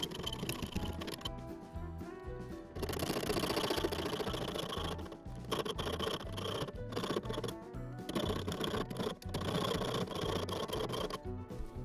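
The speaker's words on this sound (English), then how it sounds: "I'm going to take a hacksaw and cut off the handle of the spoon" A hacksaw cuts off the handle of a metal spoon in steady back-and-forth rasping strokes, close and fairly loud, with brief pauses between bursts of sawing.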